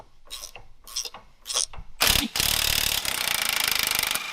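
A ratchet wrench clicks rapidly while unbolting shock absorbers on a Jeep in a shop, starting with a few short bursts and then a sustained, loud, close ratcheting run.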